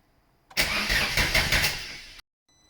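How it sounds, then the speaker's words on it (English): A classic Mini's engine cranks and tries to fire for about a second and a half, a loud, close burst of rough, pulsing churning that stops abruptly, with quiet before and after. "Let's try and start the car."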